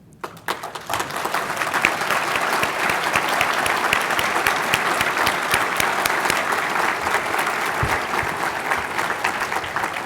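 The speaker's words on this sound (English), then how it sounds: "give them a hearty, hearty round of applause" A crowd applauding steadily, dense clapping that starts abruptly and holds at an even, loud level for several seconds.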